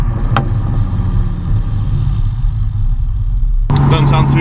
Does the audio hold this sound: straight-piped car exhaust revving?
yes